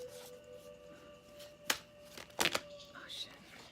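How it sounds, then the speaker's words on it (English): Large tarot card decks, two different decks mixed together, being shuffled in a few quick riffling bursts, fairly close and moderately loud over a quiet room with a faint tone. "I actually have two different decks here, so they don't always shuffle and blend the way other decks do"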